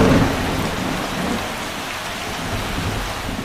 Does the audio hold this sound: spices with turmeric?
no